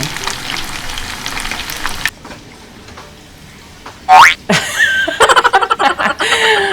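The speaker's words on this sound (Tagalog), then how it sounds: "katatapos lang natin iprito Didi yung ating chicken" Chicken, fried for orange chicken, hisses and sizzles loudly in a pan for about two seconds. The sizzle then cuts out, followed by quiet room sound, a sharp ringing tone and a run of rapid clattering knocks.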